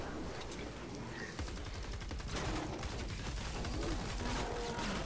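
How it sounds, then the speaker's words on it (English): A Hunter Killer semi-automatic military-style rifle from Fortnite Save the World fires in a rapid, steady string of loud shots, with mechanical clacks of the action running through the burst and no talk. "The rate of fire is a little bit higher than I would like on a semi-automatic weapon"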